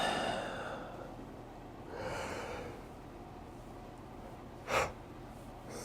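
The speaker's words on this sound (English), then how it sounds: "I said that and then I immediately yawned" A single person yawns and breathes, with a drawn-out airy inhale and exhale followed by a short sharp breath near the end, close and fairly quiet, with no talking.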